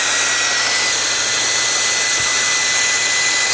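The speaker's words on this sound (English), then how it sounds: "I've got this blow dryer here." A handheld blow dryer runs steadily at close range, a loud continuous airy whoosh with an even motor hum, holding constant throughout with no talking, used to float a red ball in a stream of air.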